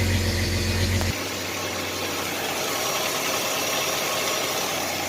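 A 1985 Chevrolet S10 pickup truck engine idles close by, a steady low rumble that drops to a quieter, smoother idle after the first second and holds there.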